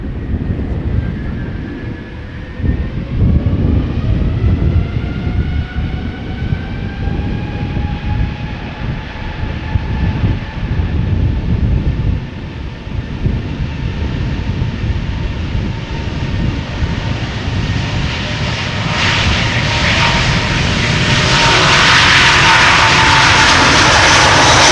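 A two-year-old Airbus A330neo takes off at Amsterdam Schiphol with a loud, building jet roar and rising engine whine tones. The sound swells to a harsh, broad blast near the end, close by, with no talk over it.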